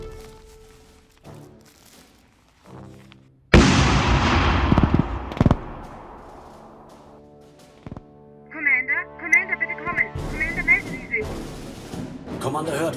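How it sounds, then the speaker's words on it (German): Gunfire in the science-fiction war film Starship Troopers 6: Deadlock, a heavy blast with a long decaying rumble followed by a second sharp shot, then electronic beeping and voices amid further clatter. "Ich höre Schüsse."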